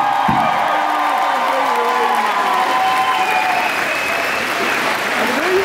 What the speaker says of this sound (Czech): jestli můžu ještě poprosit o velký potlesk